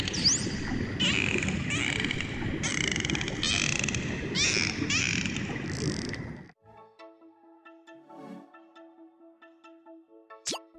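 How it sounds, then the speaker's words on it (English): Dolphin sounds: rapid clicking trains mixed with rising whistles, loud and continuous for about six seconds. A quieter, different tonal sound follows after an abrupt cut. "The answer is D, a dolphin."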